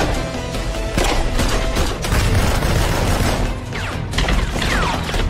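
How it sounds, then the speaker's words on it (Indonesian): A dense, loud barrage of gunfire and impacts fills a film shootout, with overlapping bangs and crashes and no speech. "rekan Max terpaksa terbunuh selama baku tembak"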